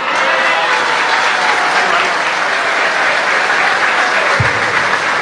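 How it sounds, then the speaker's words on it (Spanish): Steady, dense audience applause fills the whole stretch, loud and continuous, greeting a young girl who has just recited a poem of her own at a gathering. "Fuertes los aplausos"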